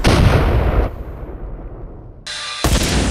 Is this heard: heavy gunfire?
yes